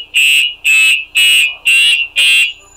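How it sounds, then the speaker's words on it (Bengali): An electric motorbike's touch-triggered security alarm blares in five loud, evenly spaced high-pitched pulses, each about a third of a second, close and shrill. "বাইকটা সিকিউরিটি অ্যালার্ম দেওয়া আছে, এটা টাচ করলেই শব্দ করবে"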